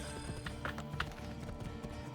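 A horse gallops in the video game Assassin's Creed II, rapid hoof clip-clop beats running steadily over busy game background sound, fairly faint.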